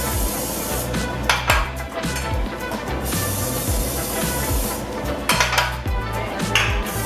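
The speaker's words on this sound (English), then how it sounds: "I'm just going to use some cooking spray to go ahead and make sure my muffin tins are sprayed well" A can of cooking spray hisses in short bursts over metal muffin tins in a home kitchen, with pans and bakeware clattering and clinking close by between sprays.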